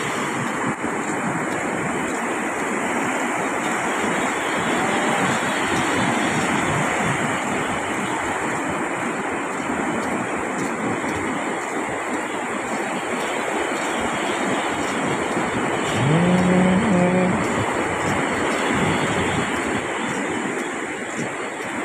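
Continuous broad rush of ocean surf after a storm, with wind buffeting the microphone, steady and fairly loud throughout, no voices.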